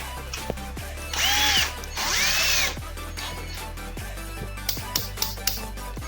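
A Metabo BS 12-volt cordless drill-driver runs in two short whirring bursts that rise and fall in pitch, followed by several light clicks close by.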